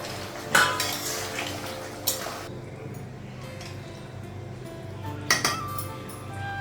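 A metal lid clanks onto a pot of Bengali fish curry on a gas stove in a home kitchen, with a few sharp clinks and rattles spaced across several seconds and faint kitchen background.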